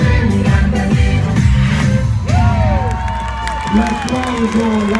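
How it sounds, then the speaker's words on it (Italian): Carnival crowd in Alcamo cheering and applauding, loud and continuous, with whoops, shouting voices and music under the noise. "L'applauso"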